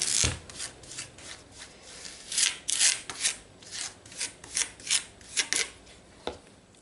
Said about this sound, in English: So any chunky bits, I'll just squish them down with the spatula.